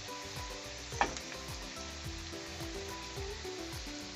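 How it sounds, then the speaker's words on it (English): Green chillies and capsicum tossed over high flame in a hot pan, sizzling and frying steadily up close, with a sharp clatter of tossing about a second in and repeated stirring motions under the sizzle. "We have to toss the vegetables fastly. Just we have to toss the vegetables."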